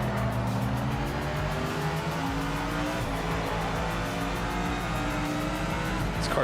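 A race car in the video game Project Motor Racing revs hard and keeps running, its engine pitch climbing and falling through the gears, with faint tire squeal under the constant engine noise.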